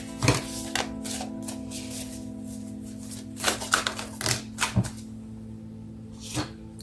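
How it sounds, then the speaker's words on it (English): Oracle cards are shuffled and pulled, giving quick papery slaps and riffles in short bursts, spread unevenly over a steady low hum. "I'm just gonna pull some oracle cards here."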